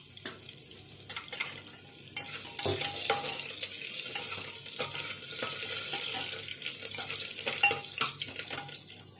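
Pulao ingredients are stirred in a pan, a continuous sizzle and frying hiss with scraping and clattering stirs close by, steady throughout and without voices.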